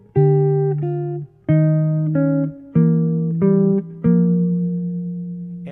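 Guitar playing contrary motion counterpoint, a top line descending twice as fast as the bottom line: five clean plucked note attacks about a beat apart, each ringing with paired pitches, close and alone.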